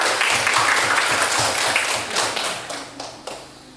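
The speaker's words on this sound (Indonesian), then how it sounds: "Ya, tepuk tangan semua." A classroom of students claps for a group presentation, a dense burst of hand claps that holds steady and then thins into a few last scattered claps.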